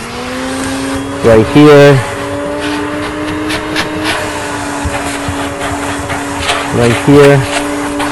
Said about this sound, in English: we're just gonna go ahead and use the vacuum